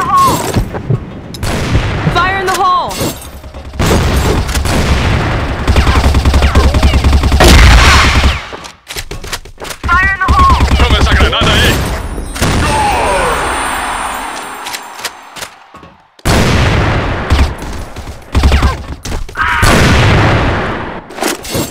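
Grenade blasts and bursts of rifle fire fill a Crossfire match on the Ship map, with heavy booms and rapid gunshots crowding together. Brief quiet gaps break up the loud, chaotic action.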